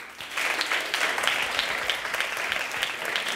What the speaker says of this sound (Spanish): el equipo número 2, un fuerte aplauso.